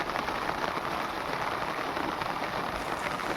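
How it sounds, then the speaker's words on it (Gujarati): Steady, dense rain pouring down, a continuous broadband hiss of drops hitting surfaces close by, with no voices. "કેટલો સરસ અવાજ આવે છે તો વરસાદની મોજ"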